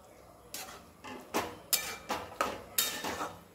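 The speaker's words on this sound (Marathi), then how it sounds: "एकदा गॅस हा फुल करणार आहे आणि व्यवस्थित ही भाजी हलवून द्यायची आहे" A utensil clatters against a pan as dill leaf bhaji is stirred over the stove: six or seven sharp metallic knocks in an irregular rhythm, close and moderately loud, with no talking.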